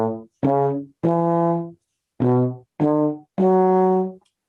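Solo trombone plays diatonic triads on scale degrees 1, 2 and 3 in 4/4 time, two short notes then a longer held note, the pattern repeated twice, each tone close, loud and clean with no talk.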